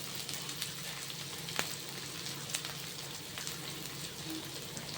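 Cut cabbage and carrot added to hot oil for mushroom noodles, giving a soft continuous crackling sizzle with scattered pops, steady and fairly quiet.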